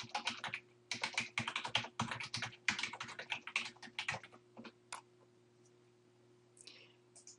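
Rapid bursts of keystrokes on a computer keyboard as a web search is entered, clattering in quick irregular runs for about five seconds before trailing off into a few isolated clicks and quiet.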